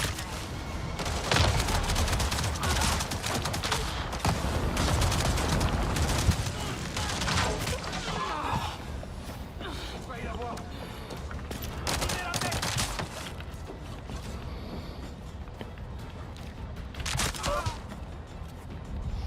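Gunfire in the video game Avatar: Frontiers of Pandora, with sustained volleys of rapid shots and bursts of automatic fire over a dense combat background, the firing loudest early and thinning toward the end, with voices mixed in.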